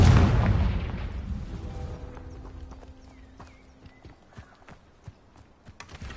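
A loud Confringo explosive spell from the Hogwarts Legacy video game bursts with a heavy boom that decays slowly, followed by scattered sharp clicks and faint knocks.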